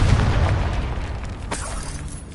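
Confringo spell explosion in Hogwarts Legacy: a deep, booming blast that opens loud and close, then a second sharper burst lands partway through before the rumble tails off, no voices present.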